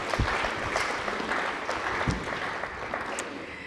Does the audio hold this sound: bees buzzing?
no